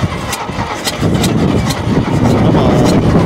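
Close, loud rhythmic cranking of an old 1949 Dodge pickup engine, a fast chugging starter beat that builds toward catching near the end, with a voice briefly urging it on.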